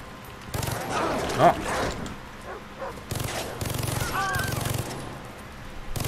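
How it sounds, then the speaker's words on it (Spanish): Gunfire erupts in bursts in Far Cry 3, mixed with short barks from wild dogs and game effects, the shots rapid and punchy over a low background. "Pero son perros salvajes, gente."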